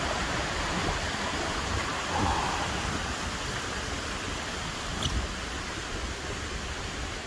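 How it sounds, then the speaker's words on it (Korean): A mountain stream in forest on a rainy day rushes in a continuous, even broadband wash, steady and fairly close, with no voices and only slight swells in level. "물 흐르는 거 보세요."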